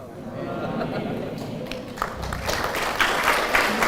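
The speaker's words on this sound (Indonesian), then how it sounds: "Saya tahu mengapa mereka tepuk tangannya belakangan" Scattered claps from a mosque lecture audience in Brunei start faint and swell into fuller applause, mixed with low crowd murmur.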